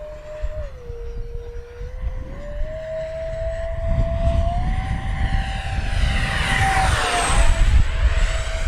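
An ARROWS Hobby MiG-29 Fulcrum RC model jet flies over a grass field, its steady high-pitched whine and roar building louder and shifting pitch as it sweeps past close by.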